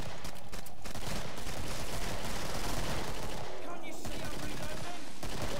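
Dense, rapid gunfire from the video game Killing Floor, set in West London, rattling continuously and loudly in the foreground with almost no pause.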